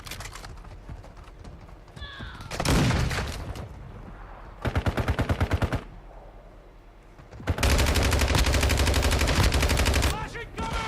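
Rapid automatic gunfire in a military shooter video game: a short, loud burst of shots mid-clip, then a longer sustained volley near the end, with softer game effects in between.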